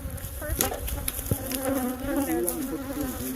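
Swarm of Africanized killer bees buzzing loudly and continuously during a hive removal, a dense droning hum with rising and falling pitch, close to the listener, with brief knocks of chopping tools beneath it.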